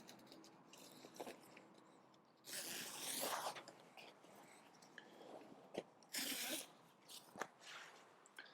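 Zip on the door of an Outwell Wood Lake 7ATC tent being pulled open in two long, bright rasping strokes, with soft fabric rustles and handling noises between them, close and quiet.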